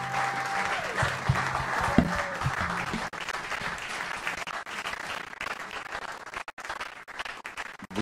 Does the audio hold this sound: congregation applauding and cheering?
yes